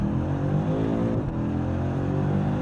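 A BMW M5 CS sedan accelerates hard, its engine a loud, steady rising drone heard from close by with a brief dip near the middle, no talking.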